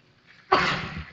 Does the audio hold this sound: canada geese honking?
no